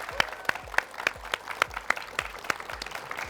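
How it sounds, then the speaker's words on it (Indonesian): An audience on an Indonesian TV talk show about vegetable and fruit carving claps for a carver in a steady, evenly spaced rhythm of sharp beats, with a faint voice underneath. "Tepuk tangan dong buat Wets."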